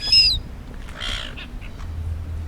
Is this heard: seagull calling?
yes